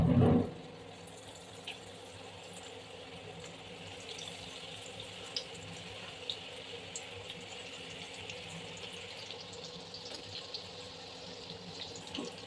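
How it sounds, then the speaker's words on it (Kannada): Cooking oil pours into a frying pan while baby soya manchurian is being made, giving a steady, faint liquid hiss that runs unbroken for about twelve seconds after a brief thump at the start. "ಸೊ ಬಾಣಲಿಗೆ ಎಣ್ಣೆ ಹಾಕ್ತಿದ್ದೀನಿ"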